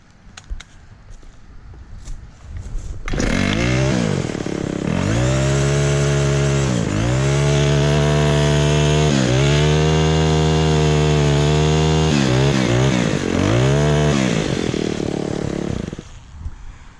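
A small engine on a Honda lawn mower or weed wacker pulled out of the trash starts after a few seconds and runs loud and steady, its revs rising and dipping several times before it cuts out near the end.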